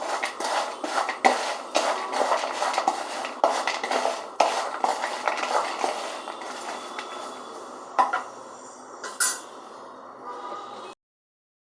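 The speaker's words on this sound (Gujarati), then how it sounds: "અને બધું મિક્સ કરી દેવાનું." Fried nylon poha snack being tossed with masala in a bowl, giving a dense, continuous rattle of crisp flakes and spoon scraping that thins out toward the end before stopping abruptly.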